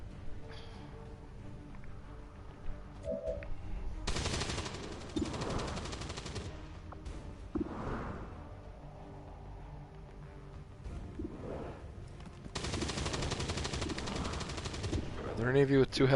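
Bursts of automatic gunfire in the video game XCOM 2 crackle in two long sustained volleys with single shots between, loud and near, with ambient game sounds.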